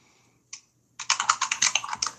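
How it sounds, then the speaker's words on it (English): Someone types on a computer keyboard up close: a single key tap, then a quick burst of about a dozen crisp clicks, with no talking. "since you're typing away"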